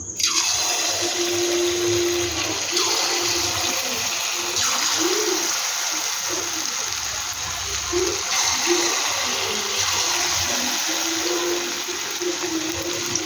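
Potato and semolina snack batter frying in hot oil, a steady broadband sizzle and crackle that runs continuously and fairly close throughout, with no talk over it.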